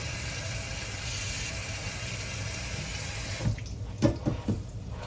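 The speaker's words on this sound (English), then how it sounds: "wash my hands a little bit" Running kitchen tap water while washing hands during cooking prep, a steady close hiss that continues throughout, with a few splashes and clunks near the end.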